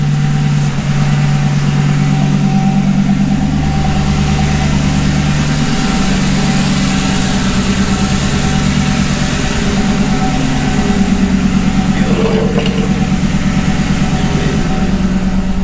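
A Ford Crown Victoria converted to a five-speed manual idles with the clutch out, giving a loud, steady, close-up low rumble with a constant droning vibration throughout and no talking.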